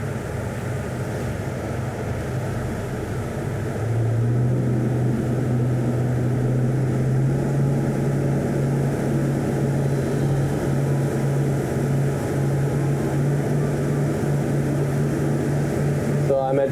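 The twin engines of a 2024 Greenline 45 Coupe motor yacht rise in pitch and power as the boat speeds up from about 1,500 RPM, a steady loud drone that climbs partway through and then holds, heard from on board.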